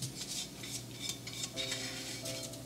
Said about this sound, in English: So now let's take it out and put it into a bowl.